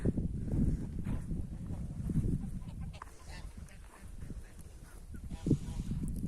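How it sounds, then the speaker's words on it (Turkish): Geese honk now and then amid a busy outdoor backdrop, with a louder honk near the end and faint voices in the distance. "Kazlarım havuzda yüzdükten sonra bir salına salına bir geziyorlar"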